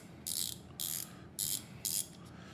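A Quinn stubby ratchet wrench clicks on a socket in four short, evenly spaced bursts of crisp ratcheting, close and fairly quiet with a faint steady background and no talking.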